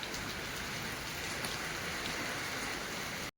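Heavy rain pours down steadily, a dense even hiss of drops drumming on a surface, with no voices.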